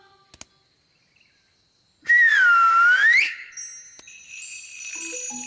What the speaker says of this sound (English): It can't talk, but it can make a sort of tinkly sound.